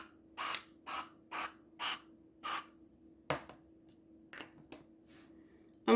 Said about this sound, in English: avocado all spray here, and we're going to spray each one.